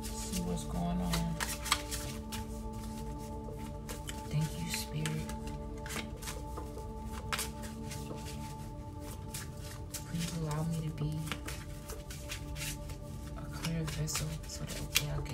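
Tarot cards shuffled repeatedly by hand at close range, quick crisp riffles and flicks set over faint background music and a low steady hum.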